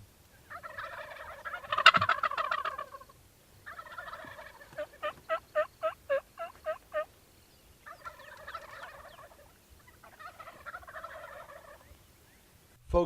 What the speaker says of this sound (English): they were gobbling everywhere